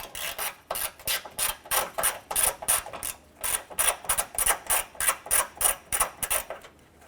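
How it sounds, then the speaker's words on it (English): A ratchet works loose the 8mm bolts on the top of a Honda Pilot grille, making a steady run of close, rhythmic rasping clicks with brief pauses between strokes. "Loosen and remove these bolts."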